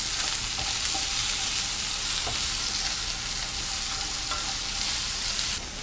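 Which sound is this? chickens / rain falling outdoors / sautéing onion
sautéing onion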